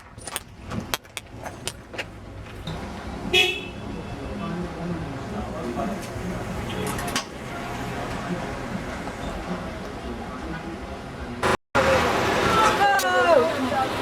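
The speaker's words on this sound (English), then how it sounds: "Mind this car then." A car passes along a street in Grenada after Hurricane Ivan in 2004, its steady engine and tyre noise mixed with nearby voices, jangling clicks and a brief cut near the end.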